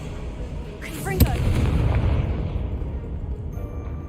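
A Confringo spell explosion in Hogwarts Legacy, opening with a whooshing magical cast that ends in a sharp crack, then a heavy booming blast that rumbles and slowly fades, with a voice heard at the moment of the cast.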